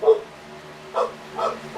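Several dogs bark and yip somewhere in the background, giving three short separate outbursts of moderate loudness with quiet pauses between them.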